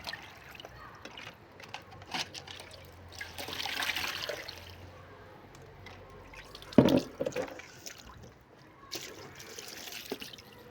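Olives being rinsed under running water to wash out their bitter juice, with a gentle tap trickle, drips and splashing in a sink, a louder splash burst midway, fairly quiet and close.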